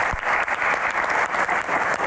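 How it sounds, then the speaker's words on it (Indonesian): Audience applause at an evening Q&A event with university students in the crowd, a dense, steady wash of many hands clapping close and loud throughout, with no talk over it. "Tepuk tangan."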